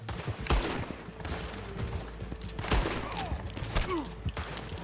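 Gunfire in Red Dead Redemption 2 with several loud, sharp shots spaced a second or two apart, ringing over a steady rumbling game soundscape with faint background noises between the blasts.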